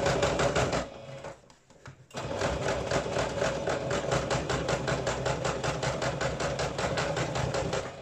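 Domestic sewing machine stitching cotton fabric for a homemade face mask, a fast, steady mechanical rattle that pauses briefly near the start, then runs continuously and loud at close range.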